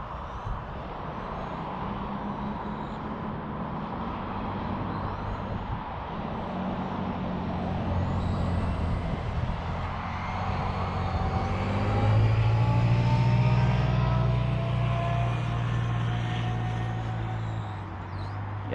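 A 1/8 scale 2WD touring RC car laps an asphalt track on rear touring tires, its motor whining in rising and falling sweeps as it accelerates and brakes. The sound grows louder midway as the car passes nearer, with no talking.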